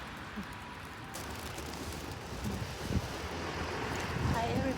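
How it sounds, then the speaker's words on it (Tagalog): Strong gusting wind in Japan roars and buffets the microphone, a rough continuous rush that swells louder toward the end. "Grabe may hangin. Lumakas."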